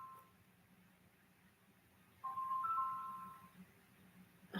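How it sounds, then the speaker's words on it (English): A mobile phone rings indoors with a short electronic ringtone, a steady tonal trill that starts partway through and rises to moderate loudness before fading, with no talking over it. "that's my phone"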